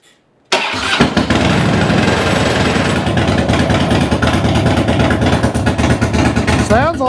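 A 2006 Harley-Davidson Dyna motorcycle, just repaired, cranks and fires up abruptly after a moment of quiet, then settles into a loud, lumpy idle close by, with a brief blip near the end.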